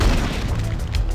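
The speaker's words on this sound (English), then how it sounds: "Middle mouse button to throw a grenade" A grenade explodes in the video game Operation F.O.R.C.C., a loud booming blast with dense low rumble that fills the whole short moment, with no voices over it.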